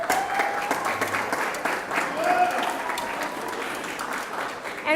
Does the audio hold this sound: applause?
yes